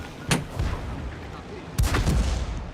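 Tank cannon firing high-explosive rounds in a tank video game, two loud booming shots about a second and a half apart, each with a sharp crack and rumbling tail over steady game background noise.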